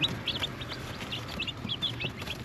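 Backyard chickens, including Chinese chickens, cluck in short calls over a steady low outdoor noise bed, with several bright chirps or peeps scattered throughout.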